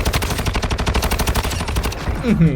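Rapid bursts of automatic gunfire from an STB556 or AUG rifle in Call of Duty Warzone Mobile crackle loudly and continuously, closing with a brief electronic tone.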